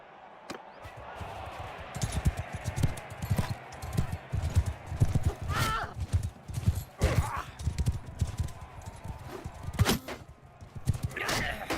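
Horse hooves galloping in the Bannerlord video game tournament, a rapid irregular clatter of hoofbeats rising and falling in loudness, with sharp impacts and faint voices mixed in.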